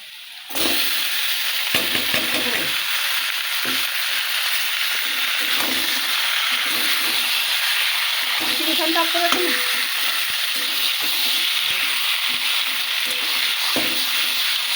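Marinated chicken goes into hot oil with whole garam masala and dried red chillies, bursting into a loud, close sizzle. Spatula stirs and scrapes break through the steady frying hiss, with no talking.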